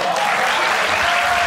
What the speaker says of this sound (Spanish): Ese aplauso como suena impresionante